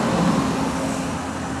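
A car passes on a road, a broad, rushing roadway roar that swells briefly at the start and then settles into a steady wash of traffic noise, fairly loud and close, with no voices.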